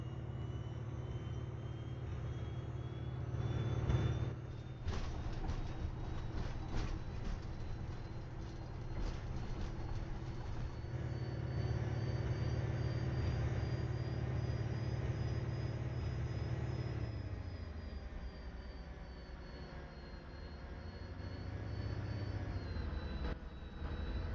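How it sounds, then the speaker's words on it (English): Bus passing on a city transit route, a long rumbling engine drone that swells and holds, then shifts and fades as it goes by, with steady traffic noise around it. "That's another bus."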